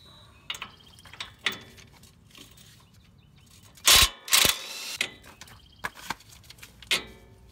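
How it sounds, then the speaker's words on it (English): A 19 mm bottom bolt being removed from the suspension of a 2019 Toyota 4Runner during a lift install, giving scattered close metallic clicks and ratcheting, with two louder bursts of wrench noise in the middle. "So now it's time to take this bottom bolt out there."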